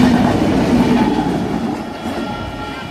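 A light engine locomotive, LDP 003, rumbles past close by with steady loud rail noise and a low droning tone throughout, no voices.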